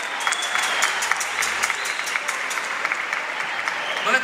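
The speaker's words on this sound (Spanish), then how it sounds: "Un aplauso fuerte para ella." An audience at a live music event gives steady, enthusiastic applause as a singer is welcomed on stage. The clapping is crisp and continuous, with occasional louder individual claps, and there are faint murmurs underneath.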